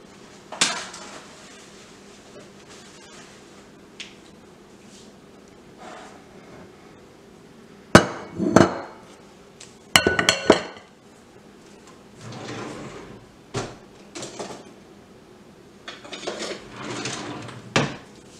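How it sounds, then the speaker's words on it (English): Ambrosia salad is spooned from one dish into another serving dish, producing scattered clinks, knocks and scrapes of utensil against dishware, some sharp and loud, with quieter stretches between bursts and no speech. "I'll spoon it into another dish"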